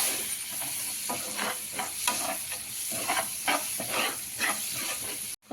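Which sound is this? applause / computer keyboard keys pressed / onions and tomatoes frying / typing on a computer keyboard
onions and tomatoes frying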